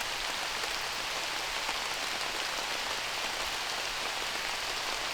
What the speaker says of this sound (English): the rain is really picking up right now